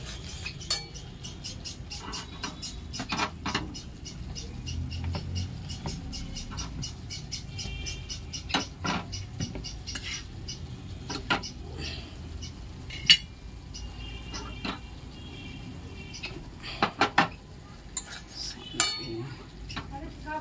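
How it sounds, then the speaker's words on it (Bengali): Spice paste is stir-fried in a pan, a soft sizzle under repeated metallic scrapes and clinks of a spatula or spoon against the cookware throughout. "মশলাটা কষানো হচ্ছে।"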